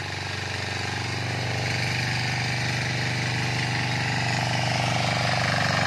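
A Trâu Vàng diesel engine powers a tiller in a field at Tiêu Sơn commune, Đoan Hùng, running with a steady, loud, close chugging drone that holds an even level throughout.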